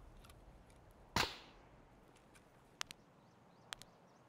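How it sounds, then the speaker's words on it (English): Distant gunfire in the Escape from Tarkov video game: one sharp crack followed by a few fainter, scattered shots at irregular intervals, far off against a quiet ambient background. "Sounds like someone across is firing at someone just ahead of us."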